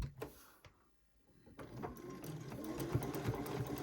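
A sewing machine restitches a seam on a quilt block for a Diamond Ohio Star pattern. The close, continuous mechanical whir builds over the last couple of seconds after a short quiet stretch, and nobody speaks.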